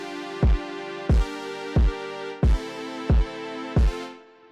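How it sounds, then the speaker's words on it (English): Kick drum and chords beat programmed on an MPC Live 2: six deep, punchy kicks at a steady pace over sustained synth chords that dip under each hit, then fade out. "I have a little kick drum and just like some chords or something that we're going to use the motherducker on."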